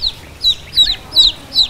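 Ducks in a backyard duck-raising pen give five short, bright calls at an even pace, close by, with no talking.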